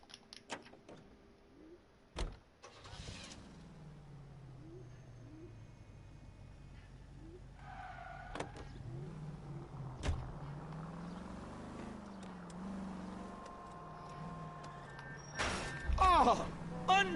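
Car driving in a video game with a confusing city, a low steady engine hum running throughout, broken by scattered thunks, bumps and short electronic beeps, with a sharp burst of noise near the end.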